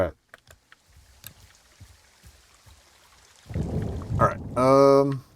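Thunderstorm in the video game Firewatch: scattered thumps and clicks give way to a swelling rumble of thunder, followed by a loud harmonic tone near the end.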